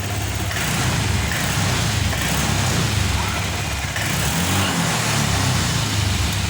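A motorcycle engine with a faulty injector runs loudly and steadily close by, with sustained revving and no talking.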